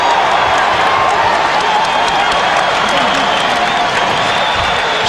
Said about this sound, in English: Crowd reacting to the hustle by the Sonics.